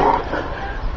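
A pet dog gives a short bark on a spoken command during an indoor obedience session, one brief close yelp that fills most of the second.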